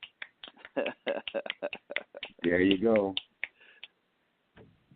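Fingers snapping repeatedly in quick, crisp clicks, close and clear, alternating with a person speaking.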